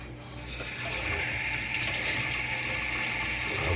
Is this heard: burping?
no